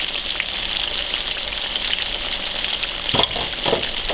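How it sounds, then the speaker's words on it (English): Fish frying in a pan, a steady bright sizzle and crackle held close and fairly loud, with a few small clinks near the end and no talking. "It's sizzling, but it ain't burning."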